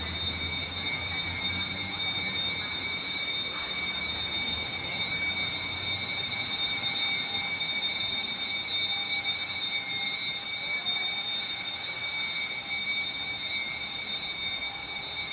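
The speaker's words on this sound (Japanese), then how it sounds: "なんか火災報知器。" A fire alarm sounds continuously, a steady high electronic tone that holds unbroken with faint background hum and no talking.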